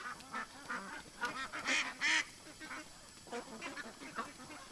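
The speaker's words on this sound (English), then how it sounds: "It's a pretty little duck." A duck quacks and honks nearby in a series of loud, uneven calls, sometimes doubled, across several seconds.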